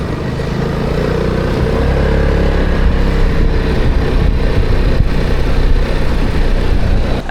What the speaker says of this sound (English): Sounds like a scooter.